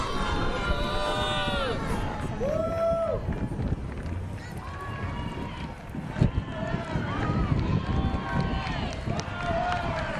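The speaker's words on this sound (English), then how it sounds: "You hear the Orange Power cheer going." A packed homecoming parade crowd in Stillwater, Oklahoma, chants the Orange Power cheer in 2022, voices rising and falling in sustained, overlapping calls under steady crowd noise, with a nearby voice speaking over it.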